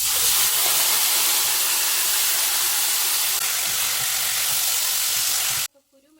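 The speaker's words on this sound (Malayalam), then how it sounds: "നമുക്കതിലേക്ക് വേവിച്ച് വെച്ചിട്ടുള്ള ചക്കക്കുരു ഇട്ട് കൊടുക്കാം" Cooked jackfruit seeds sizzle loudly in a frying pan for a Kerala-style thoran stir-fry, a dense steady hiss of frying up close that cuts off abruptly near the end.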